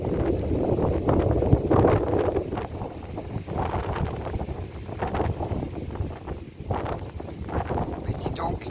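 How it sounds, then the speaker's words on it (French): Heavy wind buffeting the microphone in rumbling gusts, loud and continuous throughout. "Mais dis donc, le vent, ça va pas bien?"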